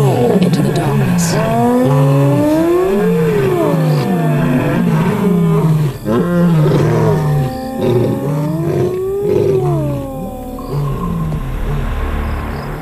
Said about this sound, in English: Night after night, the hyenas and the cats roar into the darkness.